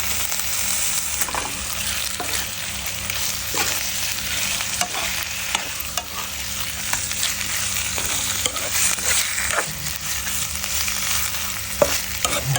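Curry paste frying with snakehead fish pieces for a spicy stir-fry, a continuous close sizzle broken by regular scraping stir strokes and occasional utensil knocks, with no talking.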